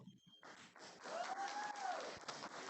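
Applause from an audience at a town board meeting starts after a brief quiet pause and swells into a steady, moderately loud patter of many hands, with a faint tonal whine running beneath.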